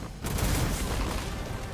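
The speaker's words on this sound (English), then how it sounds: "Easiest way to dodge the initial cannon fire." Cannon fire booms in the video game Where Winds Meet during a boss fight, a dense rumbling volley of blasts that erupts suddenly after a brief quiet moment and keeps rolling.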